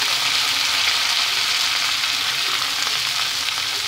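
Cut potatoes go into a pan of browned, frying onions, and a dense, steady sizzle of hot oil carries on without a break, loud and close.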